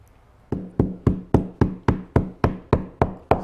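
A mallet knocks upholstery fabric down into a chair's slot on a lolling chair, a run of ten sharp, evenly spaced knocks after a brief quiet start, each close and loud with a short ring.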